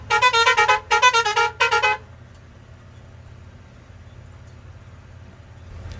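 A truck horn on a forest ghat road near Belagavi sounds three loud, close honks in quick succession, followed by a low steady rumble of the road and engine.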